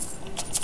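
Coins being picked up in Skyrim, a short soft jingle of metal pieces clinking together close by.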